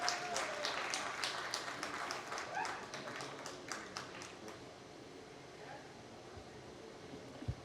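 Audience at a mushaira poetry recital at Lok Virsa, Islamabad, claps in a faint, scattered patter that thins out and fades by mid-clip, leaving a quiet hall with a few stray taps.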